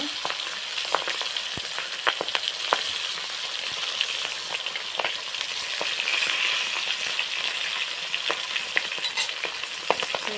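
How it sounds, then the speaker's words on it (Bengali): Thinly sliced vegetables fry in a wok (kadai) for a village-style chorchori, a continuous bright sizzle broken by sharp pops and spatula scrapes, close and fairly loud, with no talking. "এখন আমি কড়াই তুলে দিয়েছি ভাজার জন্য"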